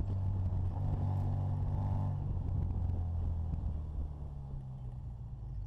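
A Bugeye Sprite sports car is driven hard, its engine a steady loud droning rumble that holds level, then eases slightly as it continues.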